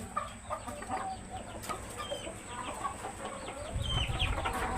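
Hill roosters (paharimurg) and hens on a poultry farm cluck softly and intermittently at a distance, with scattered chirps over a low, steady farmyard hum.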